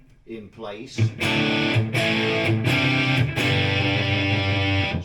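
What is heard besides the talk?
Marshall JMP 2203 amp soft distortion tone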